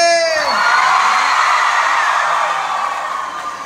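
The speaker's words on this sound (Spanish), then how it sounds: "Escuché los aplausos, esos gritos" A large outdoor festival crowd at a cumbia concert cheers, whoops and yells in a loud, sustained roar close around the listener, easing off slightly toward the end.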